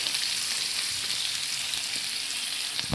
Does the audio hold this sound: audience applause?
no